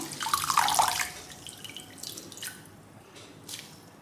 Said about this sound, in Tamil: நல்லா தண்ணியை பிழிஞ்சிடணும்.